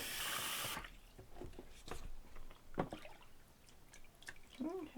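Tap water runs into a sink for under a second while dog fur is rinsed, then cuts off, leaving soft drips, splashes and handling noises.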